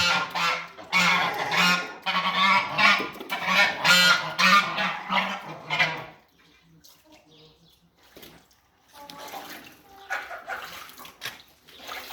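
Geese honk loudly and repeatedly at a small pond, calls overlapping for several seconds, then a quiet gap with light splashing before softer honks resume; a person speaks briefly.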